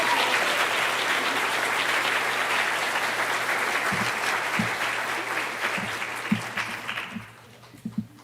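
A school auditorium crowd at a middle school spring concert applauds a student's award, steady, dense clapping that holds for about seven seconds, then thins into a few scattered claps as it dies away.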